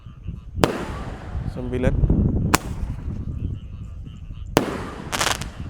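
Roman candle firework shots popping outdoors, several sharp loud bangs spaced a couple of seconds apart with crackling fizz between them, while a man counts aloud.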